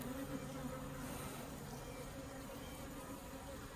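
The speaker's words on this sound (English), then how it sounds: "These are predominantly nurse bees right here, and their only job is to take care of those eggs." Nurse bees in an open beehive make a close, continuous droning buzz with a steady low hum and slight swells, filling the space without any talk.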